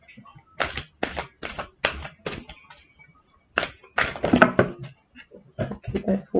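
Wisdom of the Oracle deck cards being shuffled by hand: a series of crisp, close riffling and slapping bursts in an irregular rhythm, with brief pauses between handfuls.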